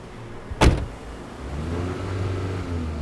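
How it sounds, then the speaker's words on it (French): A car pulls up and halts nearby, a brief sharp thump or door-like clunk early on, followed by a steady low engine idle that hums on to the end, with no speech. "Une voiture s'arrête avec des garçons"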